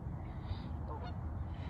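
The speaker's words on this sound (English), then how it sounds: "Those are 3 lead geese." A small group of geese honking outdoors, a few overlapping calls at moderate distance over steady low background noise, with no one talking.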